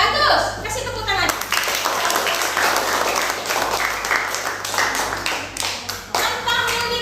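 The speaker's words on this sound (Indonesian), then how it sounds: "Bagus, kasih tepuk tangan." Schoolchildren in a classroom clap together in a dense burst of applause lasting several seconds, loud and close, with a voice speaking over the start.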